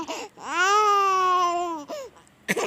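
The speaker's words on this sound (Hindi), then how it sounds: "वो एक टेप रिकॉर्डर था जिससे उस बच्चे के रोने की आवाज़ आ रही थी।" A baby's cry played back from a tape recorder: a single long, loud wail with a steady pitch that rises then falls, cut short, followed by a brief softer sob.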